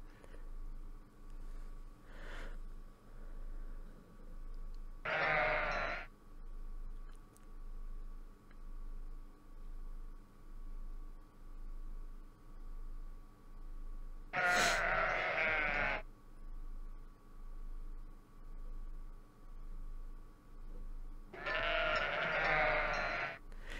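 Three sheep bleats in a math-puzzle video game, each about a second long, sound at spaced intervals over a quiet background with a soft, regular ticking pulse.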